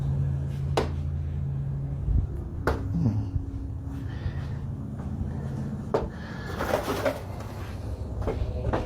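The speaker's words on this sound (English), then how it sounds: "Something knocking on the back door?" Several sharp knocks on a back door at home, sparse and irregular, isolated hits spaced a few seconds apart against a quiet room background.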